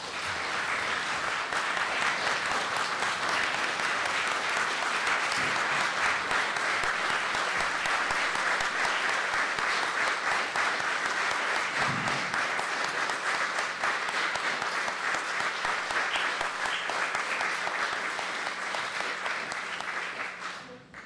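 A church congregation applauds while standing at a Sunday service, a dense, loud, steady wash of clapping that carries on for about twenty seconds before tapering off at the end.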